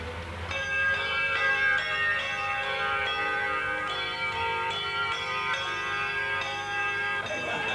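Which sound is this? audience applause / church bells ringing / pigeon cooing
church bells ringing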